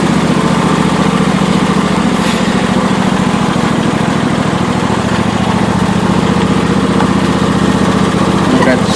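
A John Deere LA150 lawn tractor engine runs steadily after a cold start following three months of sitting, with a loud, continuous, close-up drone that holds level throughout.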